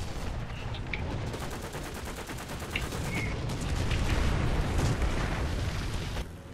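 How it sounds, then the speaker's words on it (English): Artillery fire in the War Thunder tank game, heard as a dense, continuous rumble of booms and crackling gunfire with a few sharp high clinks, steady and moderately loud with no talk. "Almost all the time under artillery fire."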